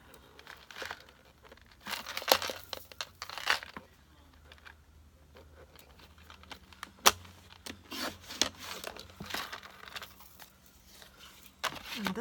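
Cardstock being cut for a fold card, scattered crisp rasping and crinkling strokes in irregular bursts, close and fairly quiet, with pauses between cuts.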